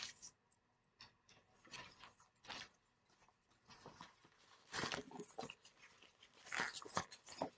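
Paper being crunched and wrinkled by hand to make faux leather: irregular crackling crinkles and crisp rustling bursts, close and fairly quiet, growing denser and louder toward the end, with no talk.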